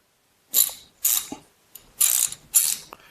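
Four quick bursts of clicking from a repaired Gearwrench or Matco ratchet wrench, each a brief rattling run of clicks separated by short pauses, close and crisp with no talking.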